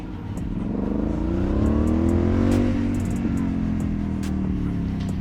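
A 2008 Aprilia Shiver 750 motorcycle engine pulls while riding, a loud, close throbbing drone that swells as revs rise and then settles into a steady rumble, with wind noise and no speech.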